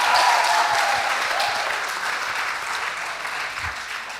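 Dense, steady applause from an audience celebrating the debate winners in a Kenya High School vs Moi Forces Academy school debate, loud throughout and easing slightly toward the end, with no talking.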